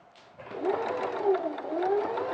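A sewing machine stitching a pocket, a short, close, steady motor hum and needle whir starting after a brief pause and running continuously to the end.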